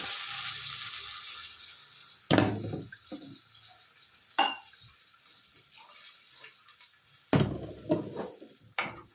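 Water pours into a cooking pot of fenugreek curry in three short splashing bursts, separated by quiet stretches of low kitchen hiss.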